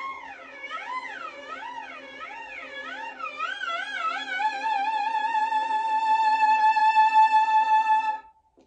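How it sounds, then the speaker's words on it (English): Violin note sliding up and down along one string in slow, wide waves that gradually narrow into a quick, steady vibrato-like wobble, played alone and close before stopping. "You're just sliding on the strings,"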